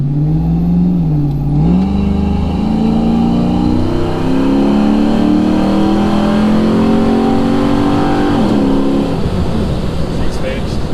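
An LS-swapped OBS pickup truck engine runs loud and close, its drone rising steadily through a long acceleration before easing off, then climbing again briefly near the end; no one talks over it.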